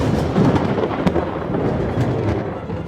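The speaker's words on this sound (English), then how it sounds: "That is the thunder." Thunder rolls through in a dense, sustained low rumble with a few sharper cracks, loud and enveloping and with no voices.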